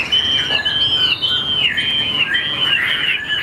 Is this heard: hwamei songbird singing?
yes